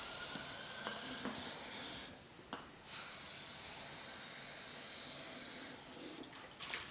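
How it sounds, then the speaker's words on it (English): A hose sprays water into a tray to rinse out cilantro seeds for microgreens, a steady bright hissing rush that cuts out briefly midway, then resumes and tapers off. "Sometimes what I'll do here is I'll hose this up."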